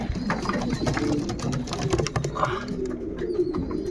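Racing pigeons coo steadily in a loft, layered soft throaty calls overlapping close by with light rustling throughout.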